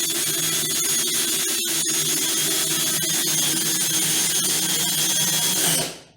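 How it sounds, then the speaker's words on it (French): A cordless screwdriver set to its lowest of three speeds drives a screw with a steady, loud whirring drone, then winds down and stops at the end. "Voilà, visser, mettre toujours la vitesse 1 sur la visseuse."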